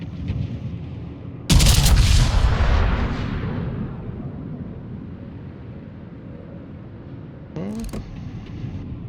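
Naval artillery in the World of Warships game: a massive close broadside boom that decays into a long rumbling tail, then a second sharper shot near the end, over a steady low engine-like drone.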